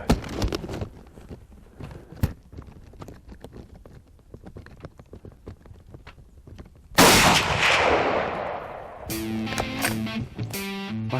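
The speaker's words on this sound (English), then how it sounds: "we catch the second shot of 2 does" A rifle shot fired while hunting deer cracks out loudly around the seven-second mark, its blast decaying through an outdoor setting after a stretch of quieter footsteps and rustling, with another sharp sound following.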